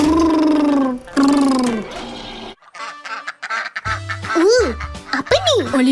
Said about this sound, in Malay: Itik makan benih.